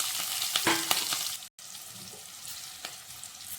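Onion, green chilli, cumin seeds and bay leaf frying in hot oil in a pan, giving a steady close crackling sizzle with a few clinks from stirring and a brief dropout midway.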